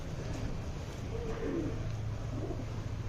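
Soft pigeon cooing, a few low rounded coos rising faintly over a steady background hum, distant and quiet with no talk.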